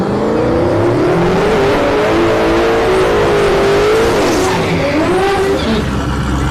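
Drag race cars, a Nissan 240 against a Mustang, roar down a no-prep strip at Orlando Speed World, engines rising in pitch under constant loud crowd and track noise with a tire squeal near the end.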